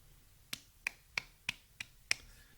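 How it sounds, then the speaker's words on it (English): A few audience members clap sparsely at the back of a comedy show, six separate sharp claps in a loose, even rhythm, faint and distant with quiet between them. "Is that some of you clapping there at the back?"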